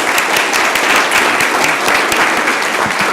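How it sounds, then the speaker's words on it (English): Audience at a city council meeting in Columbus, Georgia, applauding: steady, dense clapping from a crowd, loud and continuous throughout with no voices standing out. "Let's give them another round of applause."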